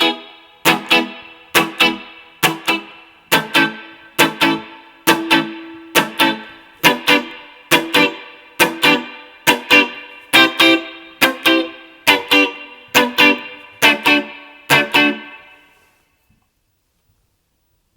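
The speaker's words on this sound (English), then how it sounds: "I'm going to ask my assistant to turn the reverb up, like to about 6" Reggae guitar chords strummed in a steady rhythmic series of short bright stabs with reverb set to about 6, each chord ringing briefly into the next before fading at the end.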